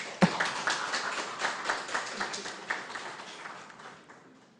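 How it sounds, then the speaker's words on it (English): Audience applause at a youth association's 20th anniversary inter-association debate, given for presenters receiving certificates: a dense, steady patter of many hands clapping that gradually fades toward the end. "just encourage the presenters with a resounding round of applause."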